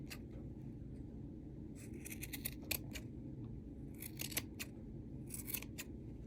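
Scissors snip through yarn while a pom pom is shaped on the fingers, the crisp cuts coming in quick clusters over a steady low room hum.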